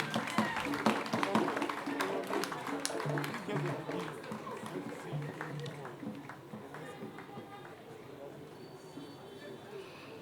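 An audience applauds a graduate named overall best in the Faculty of Business at an Accra Technical University congregation, a dense spread of claps across a large hall that thins out toward the end.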